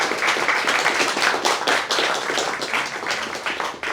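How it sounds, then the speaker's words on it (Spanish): Audience clapping at a book presentation for a novel about cats, a dense, steady round of applause from a crowd that stays loud throughout and fades slightly at the end. "Un aplauso, por favor, para Marco Matos."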